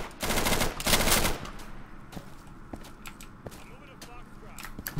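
Gunfire from the tactical shooter game Insurgency: a loud burst of rapid automatic fire up front, followed by scattered sharper single shots and distant pops.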